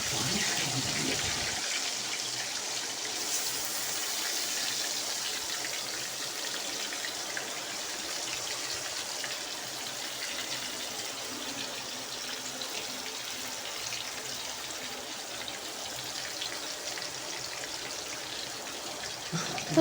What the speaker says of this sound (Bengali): এখানে কলে জল তুলছি, পামে জল উপরে উঠছে, ট্যাঙ্কিতে জল ভরছি।